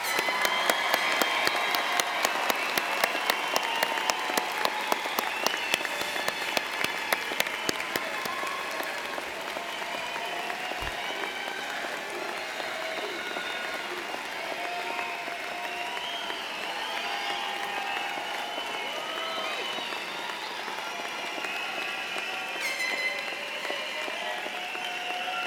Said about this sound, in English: How about we give one more round of applause for all the graduates?